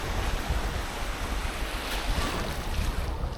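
Ocean surf at Rest Bay in Porthcawl rolls and breaks in a continuous loud wash, heard close up from a surfer in the water, with gusts of offshore wind buffeting the microphone throughout.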